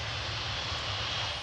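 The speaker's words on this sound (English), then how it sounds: "Touchdown at Auckland's Whenuapai Airbase." A US Air Force C-5 Super Galaxy military transport touching down at night at Auckland's Whenuapai Airbase, its engines giving a loud, steady, continuous roar with no voices.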